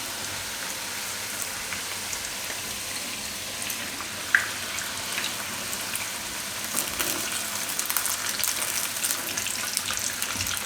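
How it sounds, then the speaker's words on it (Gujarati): Jeera puri, cumin-flecked fried dough, bubbles in oil on a low flame, giving a soft continuous hiss and crackle like light rain, steady and close with one sharp pop midway and no talking. "તો આપણે આ રીતની થોડોક બ્રાઉન જેવો ગોલ્ડન કલર આવે એવી તળવાની છે, ધીમા તાપે એમ"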